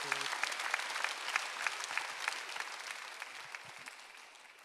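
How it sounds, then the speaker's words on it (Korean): A church congregation at a Korean Sunday worship service claps hard and fast, a dense, steady roar of many hands that holds strong throughout and eases only slightly toward the end. "박수 좀 세게 쳐요"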